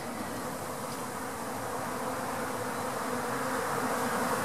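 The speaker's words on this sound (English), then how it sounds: "has got a swarm moving in" Dense, steady buzzing of a honeybee swarm moving into a top bar hive, loud and continuous with countless wings humming close by, no voices.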